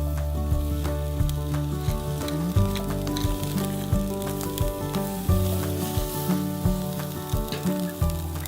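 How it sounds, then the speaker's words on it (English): Ribeye steak sizzles hard on the hot sizzle zone of a Napoleon barbecue, a close, steady frying hiss with scattered crackles and occasional scrapes, and no talking. "I'm pressing down really firmly with my tongs to make sure the steak has maximum contact with the hot sizzle zone."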